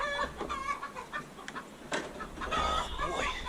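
Several chickens in a mulched chicken run cluck and squawk in quick, overlapping bursts, fairly close and busy, with no talking.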